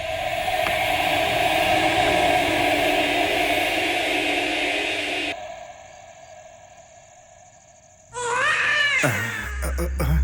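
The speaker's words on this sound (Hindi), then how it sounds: "कोई तो बच्चा रो रहा है" A baby cries in a horror thriller scene: a sharp, wavering wail breaks in loudly after a long stretch of steady droning noise and a quieter lull.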